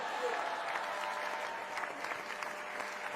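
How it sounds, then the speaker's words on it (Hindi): Applause fills a hall, a dense, even wash of many hands clapping that holds steady for a few seconds, heard from a distance at low level with no voices over it. "तालियों की गूंज उठ गई"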